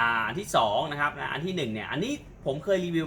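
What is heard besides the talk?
No distinct noise like a dog, phone or traffic.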